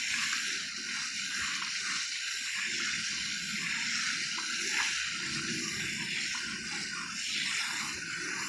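Steady stream of water poured over the soil of a potted blood orange tree, a continuous close hiss and splash with no talking.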